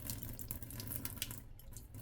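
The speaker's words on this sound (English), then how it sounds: "let's show you how the carafe pours." Water pours steadily from the glass carafe of an OXO Brew 12-cup coffee maker, a continuous close trickle and splash with no talking.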